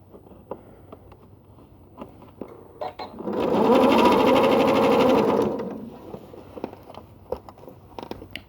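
A sewing machine stitches a quilted tote bag in one steady burst of a few seconds, whirring close and loud, with quiet handling clicks and taps before and after.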